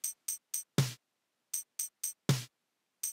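A programmed swing percussion loop in OctopuSequencer: a tambourine-like jingle ticks in groups of three, with a sharp snare hit after each group, repeating twice before a final jingle.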